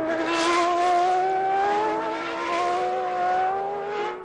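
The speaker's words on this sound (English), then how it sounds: "Ukio Katayama in the Tyrrell ahead of Michael now as Senna tries to close the gap" Formula One racing cars, including a Tyrrell, scream along the track with high sustained engine whine, pitch slowly rising and falling as they pass, loud and steady with no talk.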